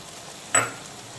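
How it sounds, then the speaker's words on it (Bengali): Chopped tomatoes hit a pan of frying garlic and onion for a spicy mutton curry, a single short sizzling burst over quiet background hiss. "তো এখন দিয়ে দেব টমেটো কুচি"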